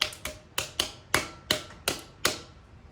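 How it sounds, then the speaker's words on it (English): Sharp taps on a homemade metal drum, about eight distinct strikes with fingers, fingernails and the whole hand, in an uneven rhythm, close and fairly quiet, with each hit ringing briefly. "I can tap with one finger. I can tap just with fingernails. Or I can tap with my whole hand."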